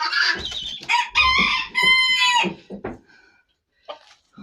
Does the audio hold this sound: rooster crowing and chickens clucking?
yes